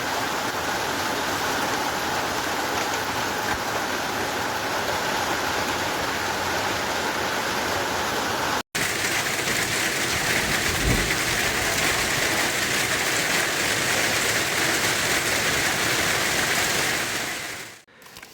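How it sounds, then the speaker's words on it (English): Hailstones pelting rooftops, vehicles and yards during a hailstorm in Eberndorf, Austria, a dense, steady roar of impacts that runs continuously for the whole stretch with a brief dropout midway, then fades at the end. "the sound of hailstones hitting rooftops, vehicles, and yards was clearly audible"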